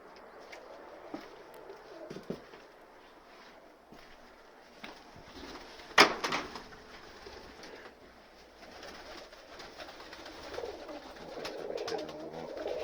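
Pigeons in a loft coo softly at a distance, with scattered rustles and one sharp knock midway over quiet room tone, no talking.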